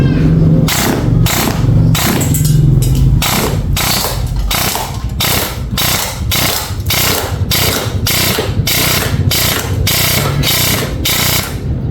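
M4A1 airsoft rifle with a T238 brushless motor firing full auto, long bursts of rapid mechanical clatter broken by short pauses, steady and close throughout.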